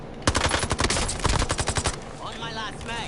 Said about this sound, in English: And I'm hearing lots of gunfire.